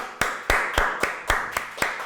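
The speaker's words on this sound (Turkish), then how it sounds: "Halit'e buradan bir alkış alalım mı?" Applause for a crew member at a Turkish stand-up comedy show comes as about eight sharp, evenly spaced claps in a steady beat, crisp and close, with no talking.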